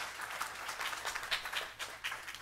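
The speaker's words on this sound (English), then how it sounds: "Give them a round of applause." A crowd claps steadily, a warm sustained round of applause filling the room at moderate volume.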